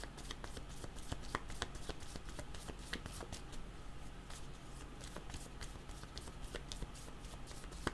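Tarot cards riffled and shuffled by hand, a steady run of crisp, close papery flicks and snaps lasting throughout, with no talking.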